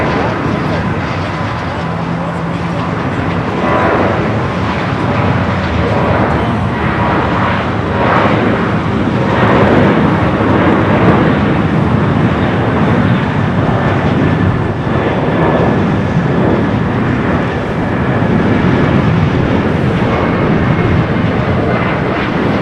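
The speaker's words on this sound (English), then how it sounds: "KLM Flight 601, the Dreamliner coming up from Amsterdam" A KLM Boeing 787 Dreamliner arriving from Amsterdam at LAX, a loud continuous engine roar and rushing noise that persists throughout, with a voice talking over it.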